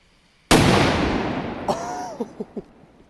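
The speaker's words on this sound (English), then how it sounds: "That is a huge firecracker." A huge XXL firecracker blasts against a lock with one sudden loud boom, then a long crackling decay of debris, followed by a few short pops and sputters near the end.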